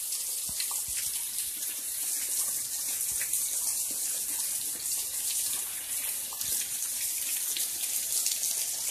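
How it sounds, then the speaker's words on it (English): Waterfall at Devils Den State Park, heard from behind the falling water: a steady, loud hiss and splash with no letup, and no talking. "We're behind the waterfall."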